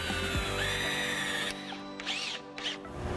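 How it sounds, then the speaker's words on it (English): A power drill drives screws into wooden boards for a rustic table tray, a steady close whirring run through the first half, then two short separate bursts of driving. "So now we're just going to put the screws in."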